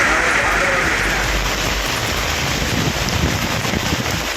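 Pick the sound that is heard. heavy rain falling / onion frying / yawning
heavy rain falling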